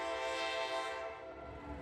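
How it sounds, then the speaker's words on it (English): Norfolk Southern mixed freight train on the Sandusky District in Marion, Ohio, led by seven locomotives, sounds a loud sustained horn chord that holds steady over a low rumble, easing slightly toward the end. "a Norfolk Southern mixed freight train heading north on the Sandusky District"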